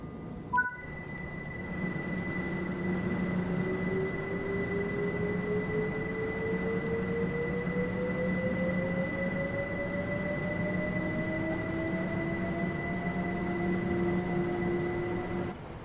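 Class 377 Electrostar electric train in Train Sim World 6 running from Seaford, a steady traction motor whine climbing in pitch as it accelerates over a constant rolling rumble, heard alone with no voices.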